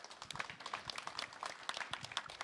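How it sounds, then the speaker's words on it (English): Audience at an assembly on Indigenous knowledge giving a round of applause, a quiet, fairly distant patter of scattered hand claps continuing throughout. "Let us give him a round of applause"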